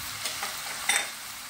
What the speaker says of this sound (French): Je vais faire cuire les légumes et je reviens.